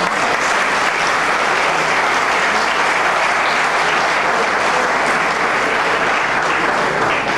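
Steady, dense applause from a large audience at a Colombian music ceremony honoring veteran maestros, loud and sustained throughout with no speech over it.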